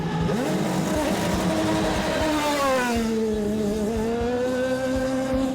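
A Forsyth team Champ Car race car laps the Toronto circuit during a practice session, its engine note a loud, continuous whine that climbs and falls through the gears as it accelerates and backs off.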